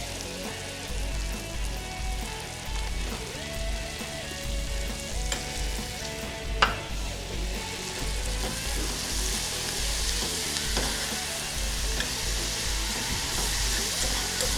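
Cabbage sautés in a hot pan with a dense, steady sizzle and crackle close up, broken by a brief sharp clink partway through.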